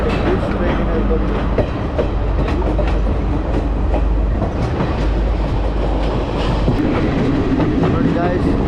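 A passenger train running from Colombo to Kandy rumbles loudly and continuously from inside the carriage, with rhythmic wheel clatter and a heavy low roar throughout.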